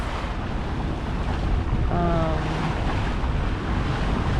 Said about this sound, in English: But the ocean has calmed down, the waves have calmed down.